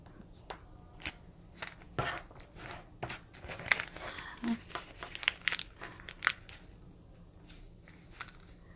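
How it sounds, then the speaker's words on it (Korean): Origami paper being folded by hand for an autumn rice-stalk craft, with close, light crinkles, creases and soft rustles in irregular bursts, quiet between strokes and with no speech. "반대편도 접어주시고요."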